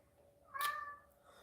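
A single short cat meow rises close by in a quiet room, clear and tonal, with faint background hum around it.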